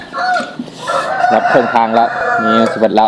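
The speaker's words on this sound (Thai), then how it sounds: "ฟังเสียงไก่ขัน" A rooster crows loudly and close by in a rural outdoor setting, its drawn-out call ringing clearly, with hens clucking nearby and a person speaking briefly over it.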